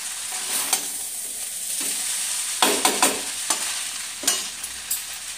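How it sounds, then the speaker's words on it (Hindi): Masala cooking in a pan while being stirred, a bright sizzling hiss broken by repeated scraping strokes of a spoon, close and fairly loud with no voices. "ऐसे मसाला भी पक गया है, सिर्फ थोड़ा सा मिक्स होने के लिए हम देंगे"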